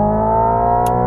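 Hyundai IONIQ 5 N electric car with simulated downshifting: a loud, steady tonal engine-like drone with stacked harmonics and a short sharp click near the end, no talking.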